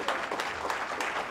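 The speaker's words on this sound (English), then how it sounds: "give a big round of applause" Audience applause at a neighborhood awards ceremony, a dense, steady patter of many hands clapping with a faint voice underneath, close and even throughout the short burst.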